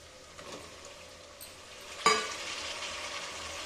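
Diced potato being stirred into a spice masala in a pan, giving a soft steady sizzle with light scraping, a sharp clatter midway, then a louder fry continuing alone.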